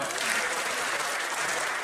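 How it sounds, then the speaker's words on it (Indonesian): An audience at a school event in Indonesia applauds steadily and fairly loud for the whole short stretch, a dense wash of clapping with no pauses. "tepuk tangan untuk Rafael."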